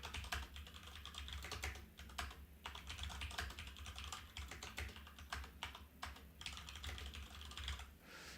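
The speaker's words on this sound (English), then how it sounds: "So let me, type this." Rapid, steady typing on a computer keyboard, dense clicking keystrokes with a few short pauses over a low background hum, no one speaking.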